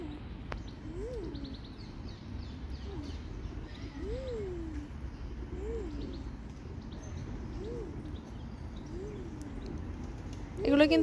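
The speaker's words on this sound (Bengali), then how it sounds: "দেখেছো অনেকগুলো কবুতর না?" Several pigeons in a park give soft, repeated coos at a slow, regular pace over a low outdoor background, ending with a brief louder rustle.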